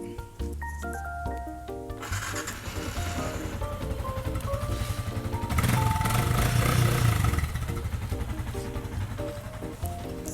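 A 2016 Yamaha Exciter 150 motorcycle engine runs steadily at a low, even idle for about ten seconds, with musical tones layered over it and no talking.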